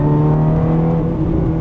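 A Ferrari 430 engine pulls hard under throttle on a race track, a loud, steady, close-up drone that holds one strong pitch throughout with no pause or voices.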